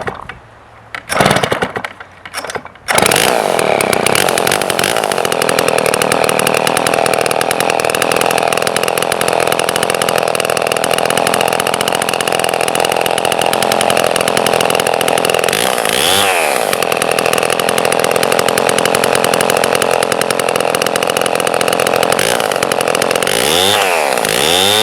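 A vintage Homelite XP 1000 chainsaw, reportedly with the muffler baffle removed, sputters through a few rough pulls before catching, then runs steadily close by at a loud, raspy idle with occasional revs.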